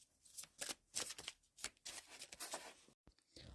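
Oracle cards are shuffled by hand, giving a close, quiet run of crisp riffling and slapping bursts, with a short pause near the end.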